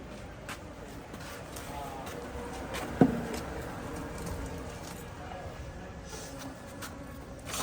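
Honey bees swarming around an opened hive on a Kerala honey farm, a faint continuous buzzing drone with one brief knock, heard from close by.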